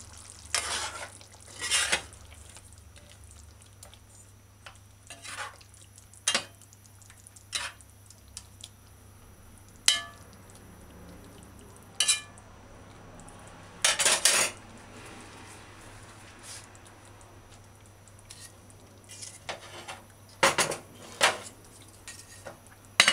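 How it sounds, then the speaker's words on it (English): Sweet potato rundung stirred in a pot as it simmers and creams, with a spoon scraping and clinking against the pot in irregular bursts over a quiet, low background, no voices. "You can hold the pot sometime and just stir it in and cream it, help it cream it."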